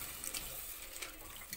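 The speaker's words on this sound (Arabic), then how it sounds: "احط مية يدوب كده على قد المكرونة" Water runs from a tap into a pot of uncooked pasta as it is topped up to cover it, a soft continuous splashing hiss at low level with no talk.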